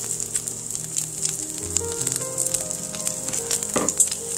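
Chopped garlic sizzles in a pan of hot oil while making cod and olive tapenade pasta, a steady close hiss with light scraping and a few stirring knocks.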